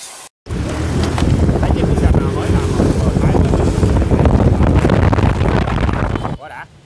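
A Honda Vision 110 scooter fitted with a Thai-style clutch is ridden on a road test. Its engine roars loudly and continuously, heavily buffeted by wind noise, then cuts off sharply at the end.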